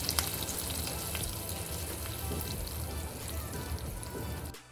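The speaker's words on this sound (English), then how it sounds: "I'm going to add my prepared tadka to my sambar." Hot tadka sizzles and fries steadily as it is poured into Kerala-style sambar, a loud, continuous crackling hiss with small spattering pops, running nearly five seconds before cutting off abruptly.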